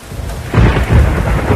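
Loud, close thunder rumbles in two deep surges over steady rain during the rainy season, with no voices.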